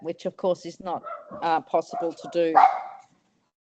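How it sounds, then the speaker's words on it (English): A dog barks once or twice in the background of a home office, partly buried under a steady stream of close speech. "Excuse my dogs."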